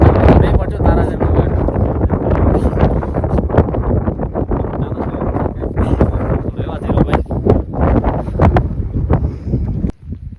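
Strong wind blows outdoors in the rain near a herd of camels, roaring and buffeting hard against the microphone in loud gusts while people talk beneath it.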